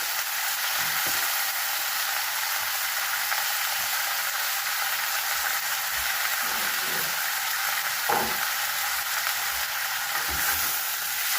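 Poppy seed paste frying on high flame, giving a dense, steady sizzle with occasional soft stirring scrapes, close and continuous throughout.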